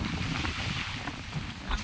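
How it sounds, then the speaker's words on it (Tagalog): Steady broadband rush of wind buffeting the microphone with ocean waves washing underneath, continuous and fairly loud, no voices. "pakinggan yung alon ng dagat"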